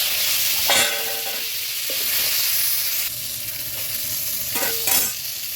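Potatoes frying in hot oil give a steady, close sizzle with a few sharp stirring knocks and scrapes, a faint ringing hum in the background, and no one talking.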